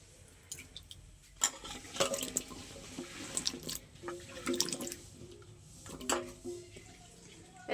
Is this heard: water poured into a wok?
yes